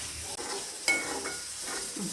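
Grated coconut, coriander powder and chili powder roasting in coconut oil in a pan for a Kerala sambar, a soft, steady sizzle broken by scraping stirs, with no voices.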